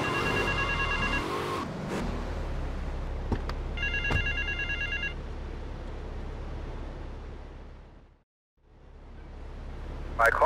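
In GTA Vice City, a payphone at Vice Point gives short bursts of electronic ringing over low traffic and ambient hum, followed by quiet and a faint final chime.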